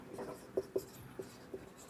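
Pen or chalk writing out a geometry proof, heard as a few short, distinct scratching strokes spaced unevenly, close and fairly quiet against a soft background.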